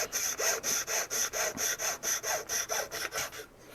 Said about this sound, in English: So we're just going to cut this off as close as we can to the measurement.